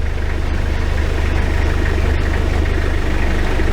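The front drive shaft of a 1992 Toyota Hilux 4x4 pickup spins at full speed, producing a loud, steady low mechanical drone with a rapid, even pulse and no voices.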